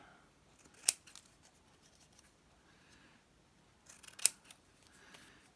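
Scissors make two sharp, brief snips about three seconds apart, quiet and close, while cutting a small paper tab for the edge of a handmade garden-themed booklet.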